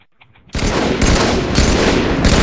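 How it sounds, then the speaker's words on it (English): Rapid automatic gunfire from Halo 3 erupts after a short quiet lead-in, a loud, dense burst of shots that continues unbroken to the end. "I'm gonna start shooting now."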